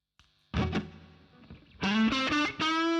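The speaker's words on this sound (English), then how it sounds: "That's with the distortion pedal on" Electric guitar with a distortion pedal engaged, with reverb also in use: a few muted chugs, then loud sustained distorted chords ringing out in bursts, close and alone with no talk.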